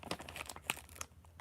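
A Pokémon Trick or Trade trading card pack wrapper crinkles and tears open, several quick sharp crackles and rips close by, fairly quiet, with no voices.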